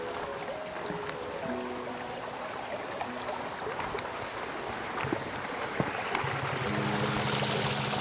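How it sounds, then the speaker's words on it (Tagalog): A small river stream flows at dusk beside a rural road, giving a continuous rushing wash of water with faint trickles and occasional knocks over a low steady hum. "Ito medyo delikado yung parang ilog-ilog."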